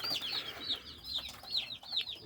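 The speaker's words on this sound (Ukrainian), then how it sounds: "Сьогодні купили курчат." Newly bought chicks cluck in quick repeated bursts, high chirpy calls overlapping one another, close by over a low background hum.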